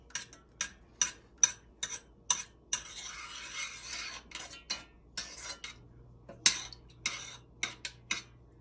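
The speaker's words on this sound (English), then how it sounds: "we're going to let this heat up a little bit here just to help mix that pumpkin in" A spoon scrapes and clinks against a pot as pumpkin, graham cracker crumbs and grits mix warm up, making a dozen or so sharp, evenly spaced close taps and scrapes with quiet gaps between them.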